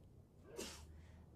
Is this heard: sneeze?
yes